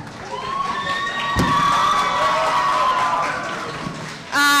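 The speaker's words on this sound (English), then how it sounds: "Let's give her another clap." An audience at a high school conference at the University of Nairobi in Mombasa bursts into steady applause and cheering, sustained clapping with raised voices, cut off at the end by a sudden loud tone.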